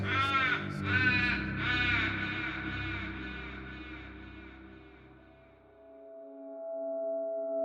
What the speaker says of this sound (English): the crows cackle madly and take to the air